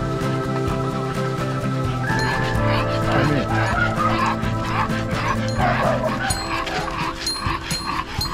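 Several dogs at a medium and large dog run in a park with a water play area bark, yip and whimper repeatedly in a close, busy outdoor chorus, with occasional voices underneath.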